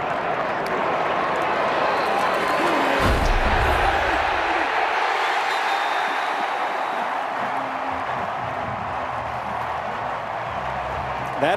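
A large stadium crowd roars and cheers continuously at a Washington vs Indiana college football game, loud and sustained, with a sudden swell partway through.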